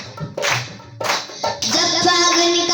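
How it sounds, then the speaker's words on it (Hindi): A devotional Khatu Shyam taali kirtan gathering claps along with the singing, with sharp bursts of group handclaps in a steady beat. Music and voices swell in as the clapping goes on. "सभी ताली बजा के"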